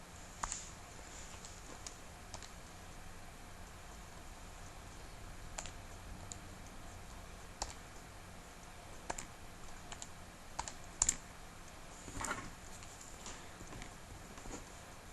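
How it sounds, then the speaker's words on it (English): Numbers being tapped into a calculator keypad, a run of sparse, quiet clicks spread unevenly over a faint steady background hiss, no talking. "on my calculator, I'm going to type it in exactly as I see it"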